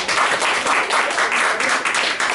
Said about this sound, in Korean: 박수로 하는.